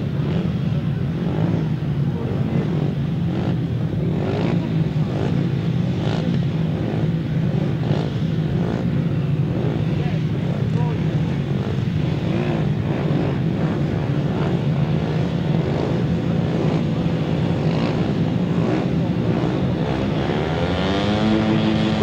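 Grasstrack racing motorcycles revving together at the start of a combined seniors and intermediate race, a dense, continuous roar of engines holding steady throughout with no voices.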